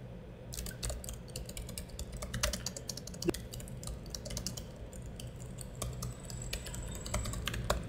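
Typing on a computer keyboard in a quiet room, steady rapid key clicks with a few sharper strikes, captured by a Logitech Brio 300 webcam microphone with a low hum running underneath.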